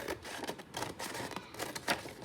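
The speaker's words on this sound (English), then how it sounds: "I just grabbed some scissors and hope for the best." Scissors snip through cereal box cardboard in a string of crisp, close cuts with short pauses between them; no one speaks.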